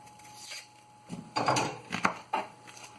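Onion being cut on a board for a chard omelette, a few irregular dull knife taps and scraping strokes, close and fairly quiet with no talking.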